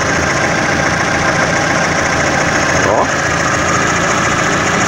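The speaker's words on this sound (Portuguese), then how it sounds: "o barulhinho do motor tá bem agradável" A basic 2004–2005 Fiat Siena with the Fire 1.0 engine idles evenly, giving a steady, close mechanical hum with a faint rhythmic tick that runs without a break.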